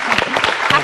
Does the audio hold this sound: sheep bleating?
no